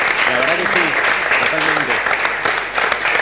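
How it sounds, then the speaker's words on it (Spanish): Studio audience applause on an Argentine political TV talk programme, a steady dense wash of clapping throughout with voices talking over it. "vale el aplauso para los"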